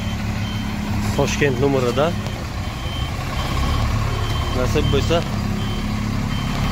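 Reversing beeps from a Moscow–Tashkent intercity bus sound in two short bursts of repeated tones over a steady diesel engine rumble, with people talking nearby.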